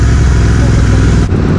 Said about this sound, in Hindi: गाड़ी का इतना आवाज है ना कि मेरा आवाज तो कुछ सुनाई नहीं दे रहा होगा